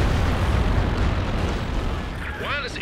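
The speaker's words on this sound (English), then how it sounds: "Once again, the strafing run coming through for Pickle Rick." Strafing run explosions in Company of Heroes 2 during a 4v4 battle on the Redball map, a dense low rumbling barrage of blasts with a voice speaking over it.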